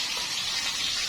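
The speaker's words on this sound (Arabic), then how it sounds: "هسيب لها كوبايه ميه كده اهو" Water poured from a cup into a cooking pot while preparing a baked fish tray with freekeh and rice, a steady close splashing gush with no talk.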